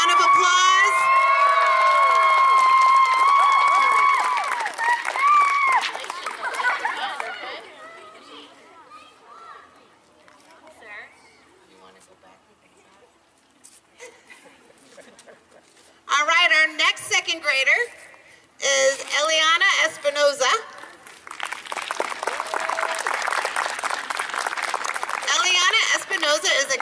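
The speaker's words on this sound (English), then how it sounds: "Can we give a big MCOB cheer? Round of applause." An audience of schoolchildren at an honor roll ceremony cheers, shouts and applauds loudly for a student, with one burst fading into chatter and later bursts of clapping and cheering.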